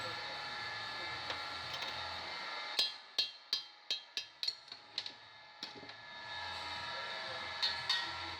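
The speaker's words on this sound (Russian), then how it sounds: "при помощи выколотки просто-напросто выбиваю направляйку вместе с метчиком" A drift is hammered against a Renault Trafic 2.0 cylinder head to knock out a valve guide together with a tap: about ten sharp metallic blows in steady succession, close and distinct over a faint workshop hum.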